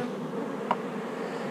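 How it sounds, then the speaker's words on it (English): Honeybees buzzing around an open hive, a close, steady drone with a brief louder buzz as one passes near. "I've been stung twice in this hive, but it's been my fault."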